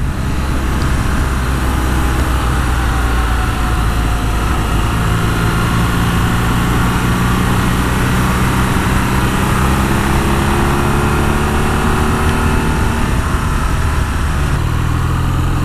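A BMW R nineT motorcycle engine drones loudly and continuously while riding, its steady rumble mixed with heavy wind rush at a constant level throughout.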